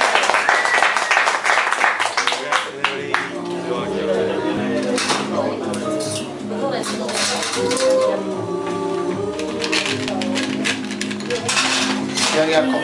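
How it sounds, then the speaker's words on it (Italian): Audience applause for Salvatore at a competition event, dense clapping mixed with a band or music playing and voices in the room, steady and loud throughout. "Un applauso al Salvatore, dai!"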